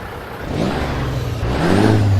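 A heavy video game Freightliner Cascadia truck engine of 690 horsepower idles, then revs up, a steady mechanical roar that swells louder near the end.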